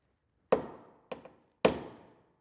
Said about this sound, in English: go in with a center punch and a hammer, and the spot welds that I can see, I'm just going to use a punch to mark the dead center